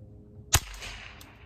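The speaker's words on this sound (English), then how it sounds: "now we've taken the suppressor off the 1022 using quiet" One unsuppressed Ruger 10/22 rifle shot using a CCI Quiet subsonic .22 round, a single short, sharp crack that is moderately loud and fades fast against a low outdoor background.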